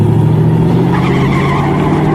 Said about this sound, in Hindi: इधर बादल ने रिवर्स गियर लगाई